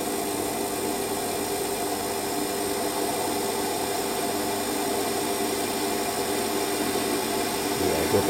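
A metal lathe turning a ball-turning tool at about 800 RPM gives a steady, dense machine hum and rushing noise throughout, constant and fairly loud with no voices.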